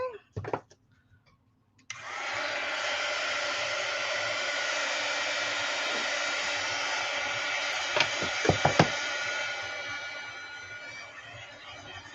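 After a few brief handling knocks, a hair dryer starts and runs with a loud, steady whirring roar over mixed media artist trading cards made with vintage pattern paper, with a few clicks and taps partway through.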